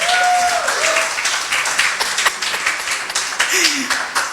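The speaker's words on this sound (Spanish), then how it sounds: "Dale un aplauso al Señor por los que ya se empadronaron." A church congregation claps during a sermon, a steady patter of hands under lingering voices and a few tonal sounds, moderately loud throughout.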